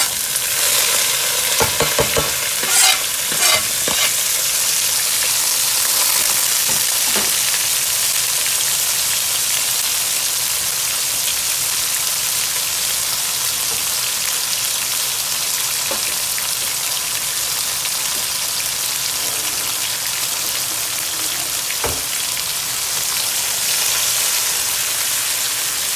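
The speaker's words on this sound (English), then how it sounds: "We're going to go ahead and fry up our ingredients that we have." Ingredients frying in hot oil in a pot for a Guyanese boil and fry, a loud steady hiss with a few sharp clatters near the start and occasional stirring knocks.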